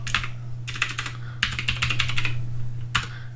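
Bursts of clicky keystrokes on a computer keyboard while entering a PowerShell command, three quick runs of typing with brief pauses between them, close and clear over a faint steady hum.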